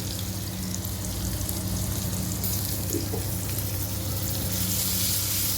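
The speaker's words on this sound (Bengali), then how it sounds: "এই পেঁয়াজের মধ্যেই চিংড়ি মাছ ছেড়ে দিব।" Shrimp fry in oil with chopped onions for a bitter gourd and shrimp stir-fry, a steady dense sizzle that stays even and close, with no voices.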